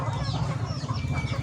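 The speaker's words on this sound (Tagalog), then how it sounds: "Ihap pa ng manok, pila ka buok?" Chickens clucking close by at a steady, busy level, with no talk over the short stretch.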